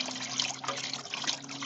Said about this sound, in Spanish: Y poco a poco vamos a ir ya echando la cal.